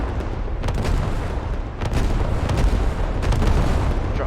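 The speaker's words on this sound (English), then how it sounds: "Artillery coming down." Artillery shells land in the video game Squad: a steady, loud rumbling barrage broken by several sharp, booming impacts in close succession, with no talking.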